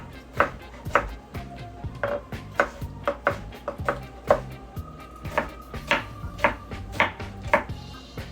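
Knife chopping vegetables into pieces on a board for Jamaican pumpkin soup, a loud rhythmic series of sharp thuds at an uneven, brisk pace with faint clinks between cuts.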